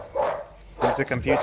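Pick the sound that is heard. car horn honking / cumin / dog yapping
dog yapping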